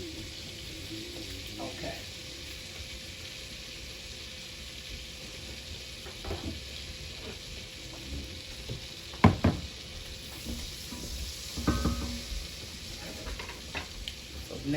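Short ribs frying in a hot skillet give a steady broad sizzle, with occasional louder knocks and stirring scrapes as the meat is moved, and a brief word spoken once.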